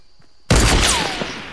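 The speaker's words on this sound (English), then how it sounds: "I see where they're shooting from" Gunfire in a team shooter video game on a map called Dusty: a sudden loud burst of shots erupts after a near-silent moment and rings out with a decaying tail, close and dominant.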